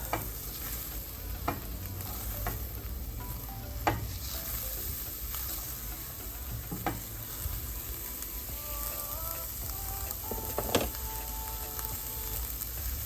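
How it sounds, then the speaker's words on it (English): Calabacitas, small pumpkin squash and corn with chopped onion, cook in a pan with a soft steady sizzle, scattered pops and a few utensil clicks, fairly quiet. "these are cooking really nicely. They're even jumping around and popping"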